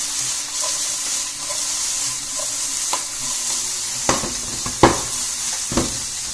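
Fluke fillet sears in a hot pan over a high flame, a steady loud sizzle with a few sharp clinks and scrapes from a utensil.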